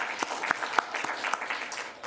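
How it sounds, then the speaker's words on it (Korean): Church congregation applauding during a Sunday worship service, a steady wash of many hands clapping with a few sharper claps standing out, fairly close and continuous. "우리 하나님께 영광의 박수를 올립니다."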